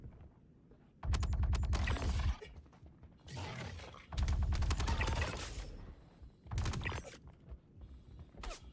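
Bursts of automatic gunfire from a hard-recoiling gun in the Star Citizen video game, three long rapid volleys separated by short gaps, loud and sharp with mechanical clatter, and no voices.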